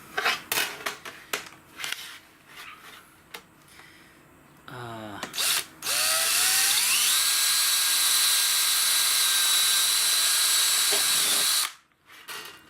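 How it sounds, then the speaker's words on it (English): A power drill whines steadily for about six seconds, rising in pitch as it spins up while pre-drilling holes outdoors, after some brief clicks and handling noises. "I'm gonna pre-drill these friggin' holes"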